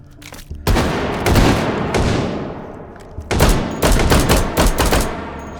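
Rapid turret gunfire in the VR shooter H3VR Take and Hold, loud sustained automatic bursts broken by a short pause, with booming impacts and no talk.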